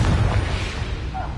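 A Confringo fire-blast curse explodes in the Hogwarts Legacy video game with a booming burst that decays quickly over continuous game sound.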